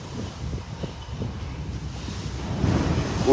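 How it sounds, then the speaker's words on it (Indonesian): Strong sea waves and gusting wind aboard the ship KM Kirana VII crossing from Surabaya to Lombok: a rough, churning rumble of surf and wind buffeting that swells louder toward the end, with no voices. "Itu emang ombaknya kencang banget. Nabrak-nabraknya parah."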